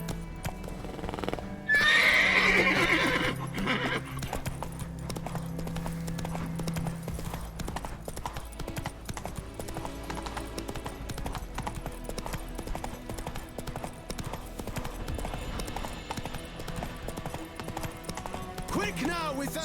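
Roach the horse galloping in The Witcher 3, a steady rhythmic clip-clop of hooves with a loud neigh near the start, while voices talk over the running.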